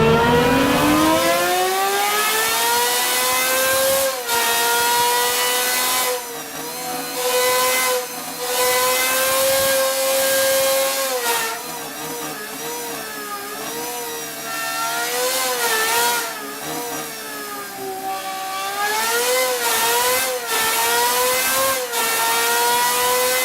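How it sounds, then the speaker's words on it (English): An Aston Martin Valkyrie's naturally aspirated V12 revs loud and close, its screaming note sweeping up and down through repeated blips and sustained high-rpm pulls, with brief drops between bursts and no voices. "We want to hear what it sounds like."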